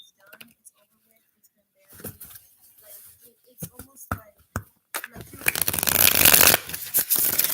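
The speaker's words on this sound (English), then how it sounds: "Going off of those cards that we just shuffled" A deck of cards gets shuffled up close during a live reading: scattered soft taps and flicks give way to a loud, continuous riffling burst over the last few seconds.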